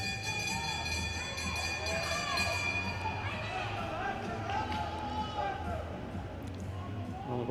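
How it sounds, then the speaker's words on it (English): At a masters cycling track race, a bell rings steadily for the last lap, its tone standing out over constant crowd chatter and arena noise. "With a bell this time."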